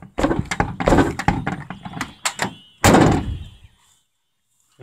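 The door of an old vehicle that has sat unused for a long time is forced shut. A rapid run of knocks and rattling thuds leads to one loud, close slam, then silence.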